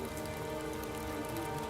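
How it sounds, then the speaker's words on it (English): Heavy rain hammers steadily on tents and ground at a rogue encampment in a video game, a dense, even hiss of drops with no pauses and no voices. "The camp's gaudy tents provide only modest refuge from the hammering rain"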